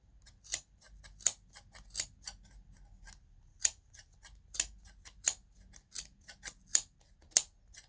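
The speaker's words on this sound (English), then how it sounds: "Get your sharp scissors, and you want to put your scissors in between and start cutting it." Sharp scissors snip through yarn wound on a pom pom maker, a dozen or so crisp, close cuts in a steady, slightly uneven rhythm against a quiet background.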